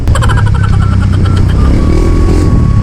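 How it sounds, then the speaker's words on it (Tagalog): A Honda Click 125 V2 scooter engine revs hard up close, a loud buzzing drone that climbs and holds for a few seconds before easing off. "Kaya naman piniga ko ng silinyador na to para matesting"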